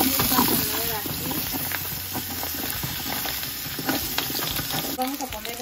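Garlic and chiles frying in a pan, a continuous crackling sizzle with scattered pops and stirring scrapes, while a voice speaks intermittently over it.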